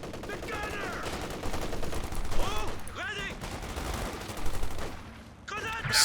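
Machine gun fire and gunshots in a Company of Heroes 2 1v1 match, with two machine guns covering a central victory point; steady bursts of battle noise under continuous game sounds.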